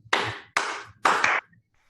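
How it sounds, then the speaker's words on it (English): A single person claps three times at an even, unhurried pace, each clap crisp and close with a brief ringing tail, followed by quiet. "clap 3 times"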